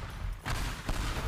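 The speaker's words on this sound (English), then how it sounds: "Fireworks, yeah, look at that." Fireworks in the video game Teardown, a quick burst of crackling, popping blasts in two clustered bursts over a rough background, moderately loud with no talk.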